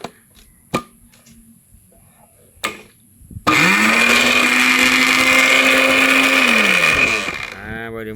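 A newly bought electric blender starts with a click and runs loudly for about four seconds with a steady high whine, then winds down; a few sharp clicks from handling the switch and jug come before it.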